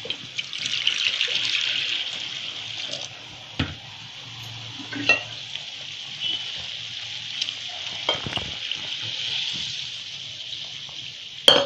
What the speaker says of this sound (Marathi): आपल्याला कसा रस्सा पातळ घट्ट पाहिजे असं वाढवून घ्यायचा गरम पाणी टाकून.